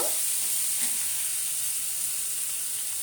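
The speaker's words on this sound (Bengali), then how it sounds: "দুটো কাঁচা লঙ্কা আর দেবো টমেটো দুটো দিয়ে আলু করে নেড়ে চেড়ে নেব" Green chillies, chopped onion, tomatoes and potatoes frying in a pan for a spiced pea curry, giving a steady, even sizzling hiss throughout with no distinct stirring strokes and no voices.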